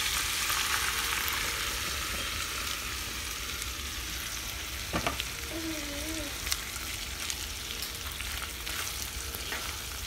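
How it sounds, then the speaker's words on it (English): Twelve whisked eggs seasoned with salt and pepper fry in a pan with a dense, continuous sizzle, a spatula stirring and scraping now and then, and a brief faint voice briefly rising partway through. "Now you want to keep mixing it until the eggs are fully cooked"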